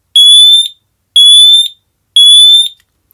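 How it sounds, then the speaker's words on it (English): A small Cavius smoke detector sounds a sweeping siren alarm: three loud, identical rising-and-falling electronic wails, each about half a second long, repeated once per second, close and clear with silence between them. "it's going to make a sort of sweeping siren noise"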